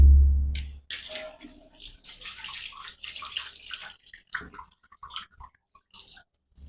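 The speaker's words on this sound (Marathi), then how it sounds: "आता ते पाणी आपण ओतून घेऊ." Soaking water is poured off wheat grains in a vessel, with a low thump, then close irregular splashing and trickling that comes in uneven bursts and fades toward the end.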